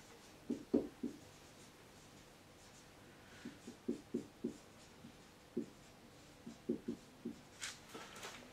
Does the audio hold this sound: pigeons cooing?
no